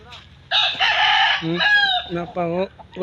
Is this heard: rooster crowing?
yes